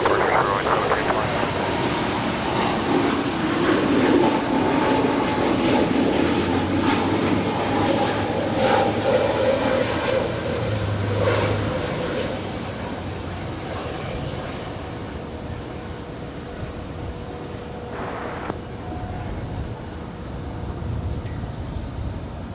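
An American Airlines jet takes off from runway 25 right at LAX: a broad, steady jet roar that swells and then slowly fades as the aircraft departs, with a faint low hum underneath.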